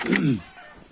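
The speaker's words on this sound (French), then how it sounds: "les poules, ils vont pour s'abriter" Backyard hens in a poultry run heading for shelter give a short, loud burst of clucking up close, fading quickly into quiet.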